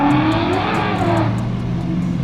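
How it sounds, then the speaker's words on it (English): A Ford Mustang drives past, its engine a loud, steady rumbling roar close by that holds through the moment with no talk over it. "Is that a Mustang? That's a Mustang."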